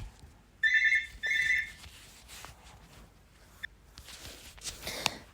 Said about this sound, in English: Of course, the phone has to ring.